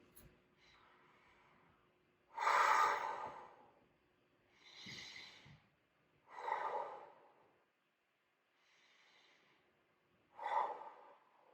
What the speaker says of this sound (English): So this is belly breathing.